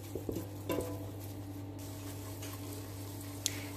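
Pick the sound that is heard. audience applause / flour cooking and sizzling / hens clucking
flour cooking and sizzling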